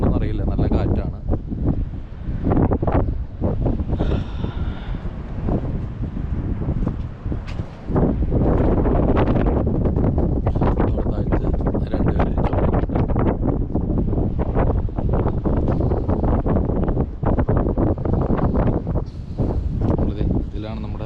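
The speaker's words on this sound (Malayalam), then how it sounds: "ഞാൻ പറയണത് കേൾക്കണമെന്ന് അറിയില്ല, നല്ല കാറ്റാണ്." Strong sea wind roars and buffets the microphone at Warrnambool, Victoria, during salmon fishing on the coast. The gusting is close, loud and continuous, with someone talking over it throughout.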